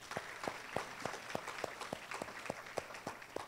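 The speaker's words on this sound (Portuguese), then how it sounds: "Então, uma salva de palmas também a eles." Audience applause at a Brazilian institute's integration event, with regular sharp claps repeating about three times a second, sounding thin and fairly distant, like a small group clapping in a large hall.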